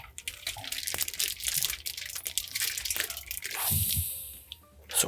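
Red liquid drains from a cut beef tenderloin bag into a clean kitchen sink, with wet drips, splatters and squishy handling noises up close, then a brief steady trickle near the end.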